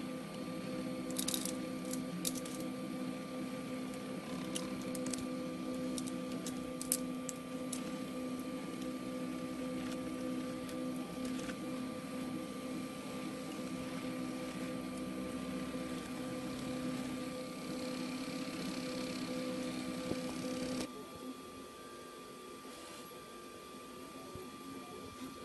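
A 3D printer built from LEGO bricks printing chocolate, giving a steady mechanical whir and hum with faint clicks near the start, then dropping to a quieter hum for the last few seconds.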